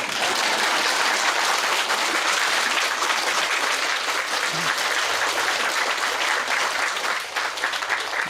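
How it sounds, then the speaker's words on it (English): Steady, dense applause from a large audience at a spiritual lecture fills the whole stretch at constant loudness, with no pause or break. "Now applause."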